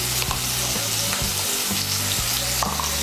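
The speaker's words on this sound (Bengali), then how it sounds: "নুন আর হলুদের গুঁড়োটা মিশিয়ে নিয়ে আলুগুলোকেও লাল করে ভেজে নেব" Potatoes fry in hot oil with salt and turmeric, a loud, continuous close-up sizzle with occasional stirring clicks and scrapes.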